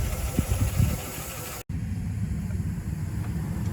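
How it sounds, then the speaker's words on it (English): Steady traffic rumble of cars passing along a road in The Villages, Florida, a continuous mid-pitched engine drone that cuts out briefly and then resumes at the same level, with no talking. "you can hear all the cars come by"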